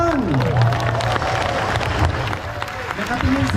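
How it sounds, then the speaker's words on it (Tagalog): Dense crowd applause and cheering at a church fiesta for Nuestra Señora de Salambao in Obando, steady clapping throughout with voices mixed in. "Parikpakan natin ang Panginoon."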